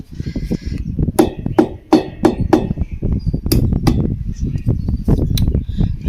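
A hammer drives a drum bearing into a Saubhagya wet grinder with a series of sharp metallic blows. The strikes come in irregular bursts, some quick and some spaced apart, with a few light clinks in between.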